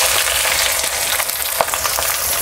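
Chopped onion and green chili drop into hot oil in a pan, producing a loud, steady, close sizzle and crackle of frying throughout, with no talk.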